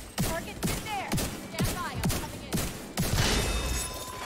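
Repeated gunshots from The Division, about seven sharp bursts at roughly half-second intervals, close and loud, ending in a denser burst of fire with debris or shattering noise.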